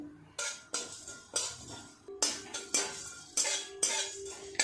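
Whole cumin, coriander, dried chili, cloves and cardamom dry-roasting in a pan, heard as a series of clinking scrapes of a spoon against the metal pan in an irregular rhythm, close and fairly loud with no talk.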